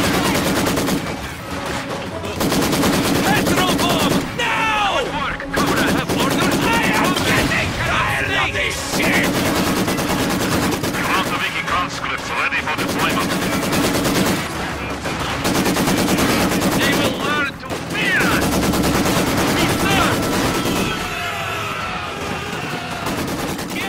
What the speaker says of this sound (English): Maxim HMGs on site